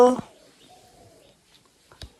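A short cooing call from a pet bird, a soft sustained tone after a brief burst of noise, followed by a quick chirp near the end.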